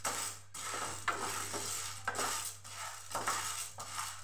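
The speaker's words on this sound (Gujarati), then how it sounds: "પહેલાં આપણે બે દાળ અને પૌવાને આપણે શેકી લેવાના છે" Chana dal and poha are dry roasted in a pan, and a spoon scrapes and clinks against the metal in repeated stirring strokes about every half second over a low steady hum.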